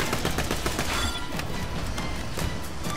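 Gunfire in Borderlands 2, a dense rapid volley of shots that opens with loud crackling bursts and then keeps pounding steadily, with no speech over it.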